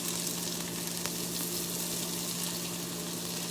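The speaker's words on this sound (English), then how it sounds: "Throw in your onions." Onions frying in hot oil with cumin seeds while tempering dal, a steady close sizzle that stays even throughout with no talking.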